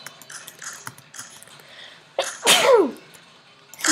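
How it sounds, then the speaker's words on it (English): A single sharp sneeze bursts out over faint background clicks and rustling. "Sneezing."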